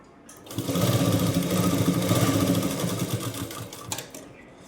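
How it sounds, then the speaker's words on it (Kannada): A sewing machine runs close and loud, stitching the hem of a saree petticoat in one continuous whirring burst of about three seconds, starting and stopping cleanly. "ಇದೇ ರೀತಿ ಸುತ್ತಲೂ ಕೂಡ ನಾವು ಸ್ಟಿಚ್ ಹಾಕ್ಕೊಳ್ಳೋಣ"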